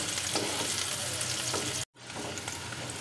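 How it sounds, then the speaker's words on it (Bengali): Chopped onion lightly frying in hot oil in a wok, a steady close sizzle with stirring, cut by a brief moment of silence before the sizzling resumes. "পেঁয়াজটা একটু হালকা ভেজে নিয়ে আমি সব সবজিগুলো ছেড়ে দেব।"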